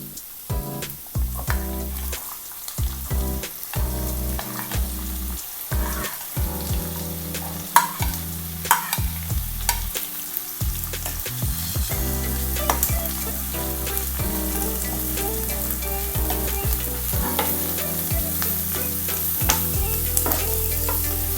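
Onions sizzling in hot oil while being stirred for paneer butter masala, a steady crackling fry broken by scraping stirs, close and fairly loud, with no talk.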